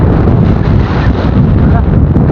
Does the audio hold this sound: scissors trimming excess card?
no